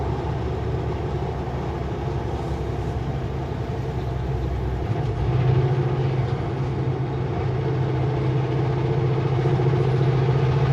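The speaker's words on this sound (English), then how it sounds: "Hey, that's the tanker truck at the beginning of the video." A tanker truck pulls in on a snowy winter road, its engine a steady low idle-like rumble with a long hiss of air brakes, fairly distant and continuous.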